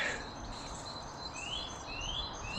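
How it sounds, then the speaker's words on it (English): Faint birdsong of finches and blue tits at bird feeders drifts over a steady outdoor hiss, with a few thin rising chirps and twitters from small birds at a distance. "you get to hear the birds and stuff, and there's bird feeders here"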